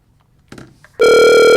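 A telephone rings loudly and steadily as a call connects for a radio interview, a strong electronic ring tone starting abruptly after a few faint rustles and continuing to the end.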